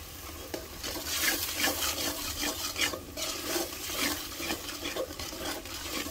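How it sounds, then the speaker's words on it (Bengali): Spices with coriander powder and salt being sautéed in a frying pan, a soft sizzle under repeated close scraping strokes of a spoon stirring in an irregular rhythm. "এখন কষানোর প্রসেসিংটা চলছে।"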